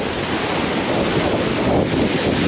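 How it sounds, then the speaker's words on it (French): Strong coastal wind buffets the microphone over the steady wash and roar of ocean waves breaking on the shore, a dense continuous rush with no voices. "Avec le vent qu'il y a et les vagues, on pourrait se croire en Normandie."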